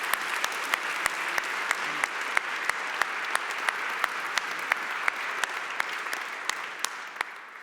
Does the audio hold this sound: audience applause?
yes